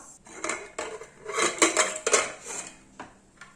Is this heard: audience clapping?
no